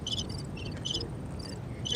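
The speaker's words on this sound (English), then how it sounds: "I only said those jokes to let y'all know that we had the cricket sound effects." Cricket chirping sound effect played after a joke, short bright repeated chirp bursts in quick succession over a soft low background hum, alone without talk.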